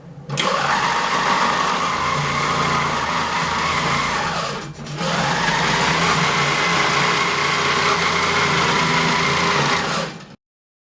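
A King Quilter II Elite longarm quilting machine stitches in a loud, steady whir, pausing briefly about halfway through before resuming and then stopping abruptly, with no talking.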